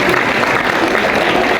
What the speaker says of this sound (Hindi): भरपूर तालियां इस तालिब इल्म के लिए।